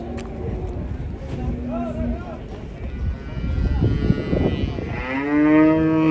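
A female cow moos several times nearby, long and low, while people talk around it as cattle are unloaded from a truck.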